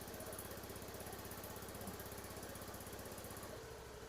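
A motorcycle engine starts and runs after its faulty ECU is replaced, giving a steady close putter with even low pulsing that shifts to a smoother idle near the end, with no talk.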